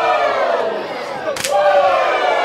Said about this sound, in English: This was the kind of competition that the fans clearly wanted to see. You could hear them cheering for it.